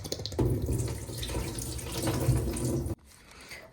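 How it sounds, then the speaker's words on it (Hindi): Water poured off from chilled ghee, a steady splashing pour into a sink for about three seconds before it stops abruptly, leaving quiet room sound. "और ये जो पानी है इसको मैं निकाल दूंगी"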